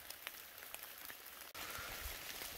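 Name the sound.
rain falling while hiking on a mountain trail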